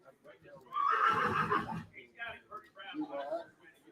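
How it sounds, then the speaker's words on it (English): A five-year-old Brabant draft horse gelding at a livestock stockyard auction gives a loud, close whinny that trails off, with an auctioneer talking over and after it. "This is Roni, an absolutely gorgeous 5-year-old Brabant gelding"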